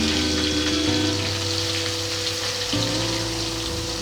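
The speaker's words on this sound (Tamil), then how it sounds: "நம்ம குட்டி குட்டியாக நறுக்கி வச்சுருக்கோம் இல்லையா, அந்த வெங்காயத்தை நம்ம இதில் சேர்த்துடலாம்." Finely chopped onions with cumin and curry leaves frying in hot oil for a quail masala, a steady close sizzle and crackle running evenly without a break.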